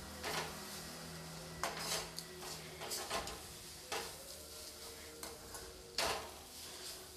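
A spoon scrapes and taps in a pan while a cabbage filling for stuffed paratha is stirred and mixed, with soft, irregular clinks and scrapes, faint and close, over a low background hiss.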